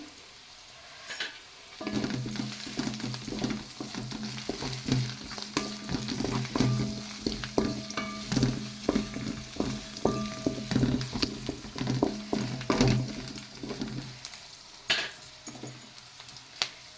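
Curry leaves fry in a pan for a tomato kuzhambu, sizzling steadily and up close while a utensil stirs and scrapes in irregular clatters and clicks, with no voices.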